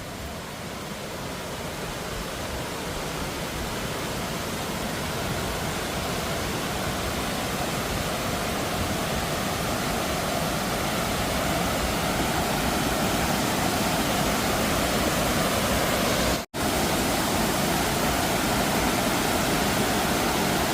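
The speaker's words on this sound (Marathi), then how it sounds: "आधी ह्या साईड एक अजून एक धबधबा तो तुमका दाखवत आहे" A steady, loud roar of a monsoon waterfall in Rajapur fills the whole stretch without a break, cutting out for an instant partway through.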